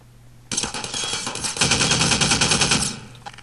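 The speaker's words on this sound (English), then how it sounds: "Take that turret down, Gordon." Automated turret firing in the video game Half-Life 2: Episode Two, a dense, rapid stream of close machine-gun shots lasting about three seconds and growing heavier partway through.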